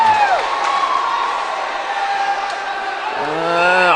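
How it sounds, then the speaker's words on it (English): A hockey arena crowd at a Des Moines Capitals game cheers and whoops after a big hit, a roaring swell that fades briefly and rises again toward the end. "I heard the crowd going nuts"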